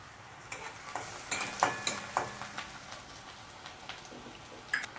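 Finely chopped garlic sizzling in oil for pasta, a soft, fairly quiet crackle dotted with sharp spits and pops at an irregular pace, heard alone with no talking.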